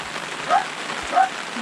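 Rain falls steadily on a surface in a rural province, a continuous close hiss with a couple of slightly louder splashy swells, and no voices over it.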